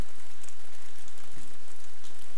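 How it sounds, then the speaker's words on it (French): Rain falling steadily, a dense close patter of drops on a surface with low rumbling underneath, no voices. "c'est la pluie"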